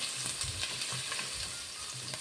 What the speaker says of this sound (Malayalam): 1/2 കിലോ മീൻ വറുക്കാൻ വെച്ചു.